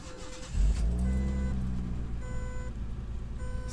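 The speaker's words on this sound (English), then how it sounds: "hear this car start up." A Datsun 280Z engine cranks and catches with a loud burst, then settles into a steady low rumble.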